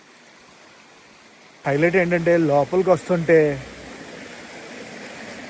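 A stream flowing steadily at Jibhi waterfall in a cold forested valley, a soft continuous rush of water heard faintly under a person talking briefly, then alone.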